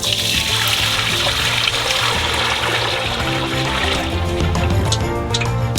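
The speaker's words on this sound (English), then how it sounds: "We put a bucket of water into it." A bucket of water poured into a large cauldron set over a fire for cooking duck, a continuous loud rushing splash that holds steady throughout with no talking.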